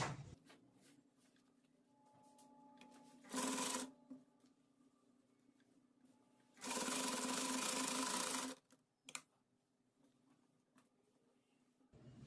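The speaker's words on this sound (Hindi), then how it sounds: "अब इसे फोल्ड करके सिलाई लगा लेंगे।" A sewing machine stitches a frock in two bursts, a short one and then a longer steady whirring run of about two seconds, loud and close, with quiet fabric handling between and no talk.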